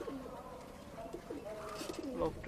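Pigeons coo repeatedly inside a pigeon loft, several low throaty rolling calls overlapping at close range with faint background rustle.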